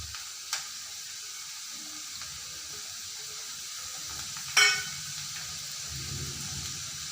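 Curry leaves sizzling in hot oil with onions for onion chutney, a steady, fairly quiet frying hiss with stirring, one sharp spattering burst midway, and no talk.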